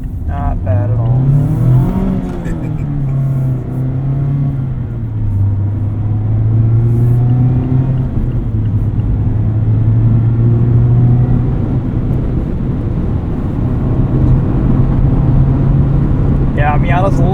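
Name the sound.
2024 Mazda MX-5 Miata ND3 accelerating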